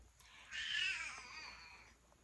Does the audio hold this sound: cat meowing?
yes